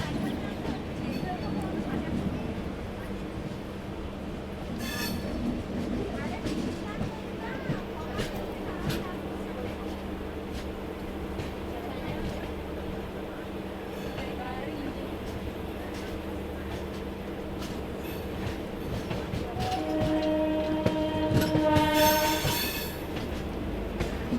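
The 17428 Narasapur-Tirupati express runs with a steady rolling rumble and scattered wheel clicks, rising near the end with a thin squeal from the wheels. Low voices sit under the train noise throughout.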